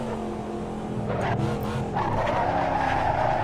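Tires of a Corvette Stingray in the Assetto Corsa racing game squealing and skidding as the car slides through a corner, with engine revving underneath, moderately loud and sustained over a few seconds, no talk.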